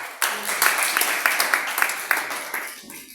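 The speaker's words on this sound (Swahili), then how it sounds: "Pigie Bwana makofi." A church congregation claps together in a steady, rhythmic run of quick hand claps, loud and close, filling the room for about three seconds before tapering off.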